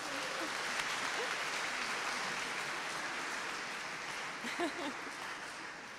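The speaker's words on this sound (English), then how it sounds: "Give yourself a round of applause." A convocation audience applauds at a university's fiftieth anniversary ceremony, a soft, distant wash of clapping that holds steady from start to finish in a large hall.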